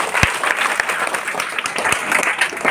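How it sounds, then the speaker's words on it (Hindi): Applause from an audience of schoolchildren at a meditation session, a steady dense patter of many hands clapping close by with a few sharper claps standing out. "आप ताली बजाइए।"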